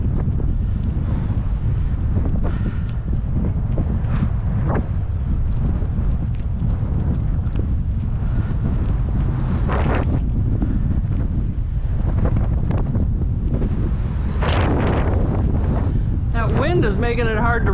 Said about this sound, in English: Wind is making it hard to ride, you know that?